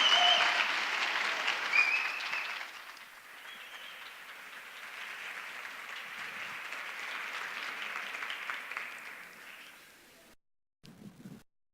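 Audience applause for speaker David Ibáñez at the OGMIOS 2019 talk. The clapping is loud at first, then settles into a softer, steady patter lasting several seconds before it fades out. A brief low sound follows after a pause.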